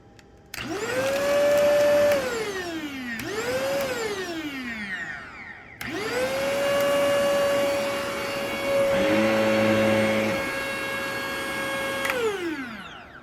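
A Shark vacuum cleaner motor whines loudly, spinning up and winding down twice before settling into a sustained, strained high-pitched roar as it burns out, with a brief lower rattling midway and a final spin-down.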